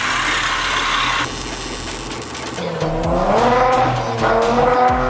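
A Kia Stinger engine with catless downpipes revs hard and loud, pitch sweeping up and down through several bursts with a raspy, aggressive exhaust note, close by.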